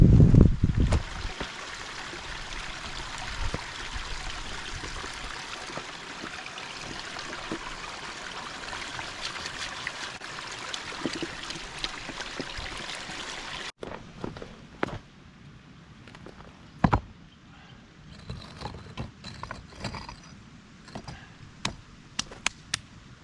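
A river flows in the Perth Hills of Western Australia, a steady broad rush for the first half, then quieter water with scattered footsteps and knocks nearby.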